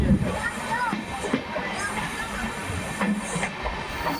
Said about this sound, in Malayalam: മധുരയിൽ നിന്ന് ഗുരുവായൂർ പോകുന്ന എക്സ്പ്രസ്സാണിത്.